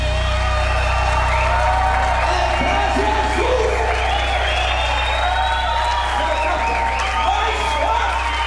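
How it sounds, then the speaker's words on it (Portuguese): An audience at a live gospel concert, recorded for a DVD, bursts into sustained, dense applause with scattered cheers and whoops, loud and continuous under a loud musical backing throughout. "Uma salva de palmas!"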